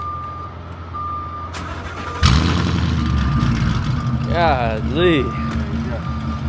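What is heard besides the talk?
Ford Mustang engine starting and revving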